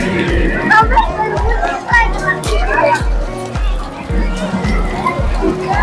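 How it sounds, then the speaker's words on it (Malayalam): Children jump and splash about in rainwater on the Zawaya Walk, with lively shouts and chatter over a steady rhythmic thumping and sloshing that continues throughout. "കുട്ടികൾക്കൊക്കെ നല്ല അടിപൊളിയായിട്ട് ചാടി ചാടി മഴ കൊണ്ട് ഇങ്ങനെ കളിക്കുന്നുണ്ട്"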